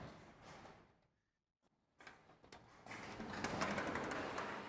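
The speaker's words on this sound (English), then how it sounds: "So I will pull the door down really quickly to kind of show you." A garage door is pulled down along its metal track during a seal installation, giving a brief rattle, a near-silent pause, then a loud, steady rolling rumble that builds to the end.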